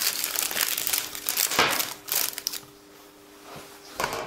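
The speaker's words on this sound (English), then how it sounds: "open the bag up" A paper piping bag used for coloured cake-decorating icing is pulled open, giving loud, close crinkling and crumpling bursts that stop and start, then fade to a quiet pause before a final rustle.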